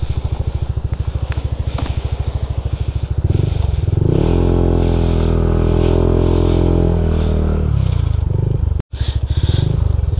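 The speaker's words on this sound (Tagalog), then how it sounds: "Nabalaho pa yung motor natin." A motorcycle stuck in mud on a rural road, engine idling with a rapid putter, then revving hard for several seconds before dropping back to idle, loud and close.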